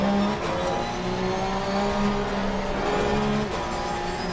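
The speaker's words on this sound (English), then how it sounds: "The sounds are great, I'll tell you that much. It's one of the best parts about racing in Porsche Cup" Porsche Cup race car engine in the Assetto Corsa Competizione racing game, a loud, steady drone with slight pitch shifts as the revs rise and fall, alone with no talking.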